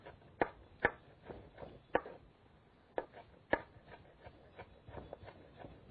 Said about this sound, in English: We'll just roughly chop.